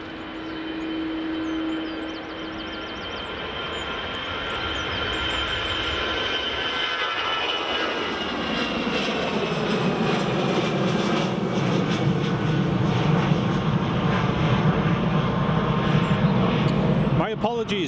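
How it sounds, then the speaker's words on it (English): An EasyJet airliner departs Edinburgh Airport with a loud, building jet roar that swells from a steady whine into a broad rumbling thrust and stays strong to the end, close and dominant. "here goes our first EasyJet departure"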